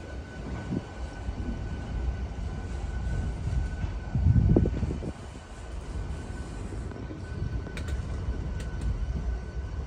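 A MEMU train pulls out of Bengaluru Cantonment railway station, heard from on board as a continuous low rumble of wheels and carriage with a brief louder clatter midway, and no voices.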